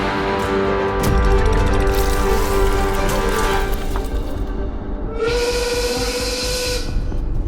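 A steam locomotive runs with a steady chugging and rail rumble throughout, then a loud, sustained steam whistle blast sounds near the end, clear and close with no talking.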